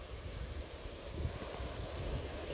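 Rushing river rapids at McGillivary Falls give a steady broadband roar of water, fairly faint and continuous, with no voices over it.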